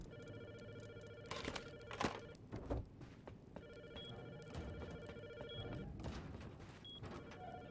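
A telephone rings during a Rust gaming stream, sounding as two long electronic ring bursts separated by a short pause, fairly faint over a quiet background.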